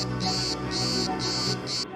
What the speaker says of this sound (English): That sound is the cicada.